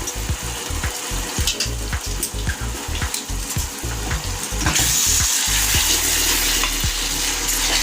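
Soy sauce being stirred into a frying chili prawn mixture in a pan, with rhythmic scraping strokes of a spoon over a steady sizzle that grows louder and more continuous toward the end.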